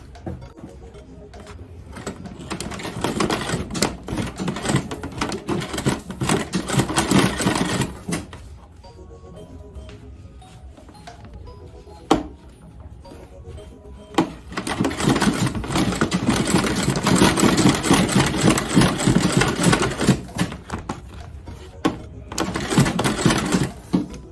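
A sewing machine stitching the lining of an Ankara fabric shopping bag runs in two long loud bursts of mechanical whirring, separated by a quieter pause with handling noise.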